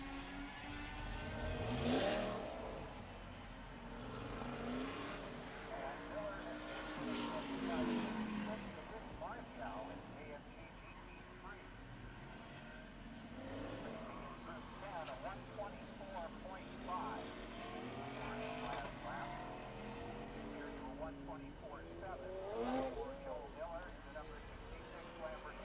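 Autocross cars race at Laguna Seca, their engines rising and fading in several passes at moderate distance under almost continuous commentary from an announcer.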